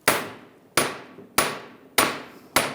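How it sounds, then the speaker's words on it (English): Five sharp, evenly spaced hammer taps ring out close and loud on a front inner axle shaft clamped in a vise, from a 2011-2018 Ram 1500. Each metallic strike decays quickly, and no one speaks. "And just taking a hammer, just give it a tap."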